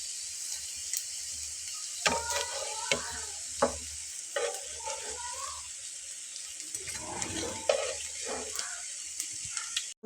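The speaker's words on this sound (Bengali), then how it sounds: "দেখুন একই রকম করে এগুলোকেও ভেজে নেব" Homemade bread snacks made with sliced bread and flour fry in hot oil, giving a steady bright sizzle throughout with scattered stirring clinks and scrapes, close and fairly loud, with no talking.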